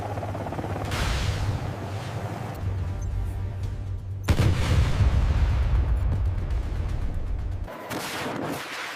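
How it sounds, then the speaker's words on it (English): A missile fired from an AH-1Z Viper attack helicopter strikes its target, heard as loud, rumbling blasts and roaring booms that surge in repeated waves with a brief drop near the end. "The missile impacts the target,"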